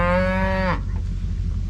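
A cow moos once loudly and nearby in an outdoor pasture while cattle and calves are gathered for a summer cattle drive, and a steady low rumble of wind or background noise continues after the call.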